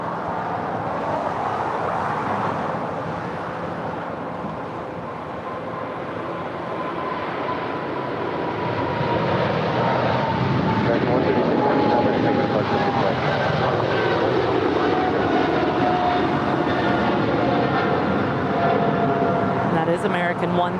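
A Boeing 777-300ER jet bound for London Heathrow roars loud and continuous as its engine tone slowly shifts, heard outdoors at an airport with a person talking over the noise.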